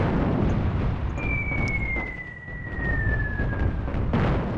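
Airstrike explosions in the North African war strategy game Attack at Dawn come as a continuous rumbling roar of blasts, with a thin whistling tone sliding slowly downward across the middle and a sharp burst near the end.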